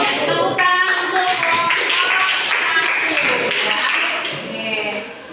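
Classroom applause for a student group that just finished presenting, a steady wash of many hands clapping for about four seconds before tapering off, with voices mixed in.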